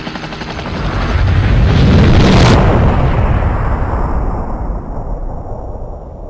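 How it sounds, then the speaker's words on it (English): A huge explosion in the video game Resident Evil Survivor booms and roars, swelling to a loud peak then rumbling away into a long fading tail. "it was a pretty legit explosion"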